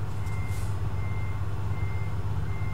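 A truck's reversing beeper in a Scania truck driving simulator game sounds over a steady low engine rumble, the beeps clear and evenly paced with no one talking.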